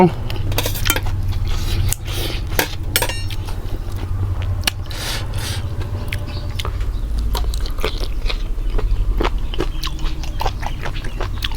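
Dried crispy squid being bitten and crunched, with repeated sharp crackling bites and chewing close up over a steady low background hum, no talk.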